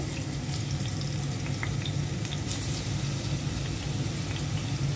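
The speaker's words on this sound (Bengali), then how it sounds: "তেলাপিয়া মাছটা ভেজে আমি রান্না করব মাছটা দিয়ে দিচ্ছি" Tilapia fish frying in oil in a home kitchen, a steady dense sizzle with low rumbling bubbling underneath and a few brief crackles, close and continuous throughout.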